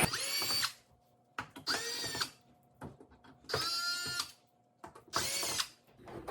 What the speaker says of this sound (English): I have to remove the 4 screws used for the mount also.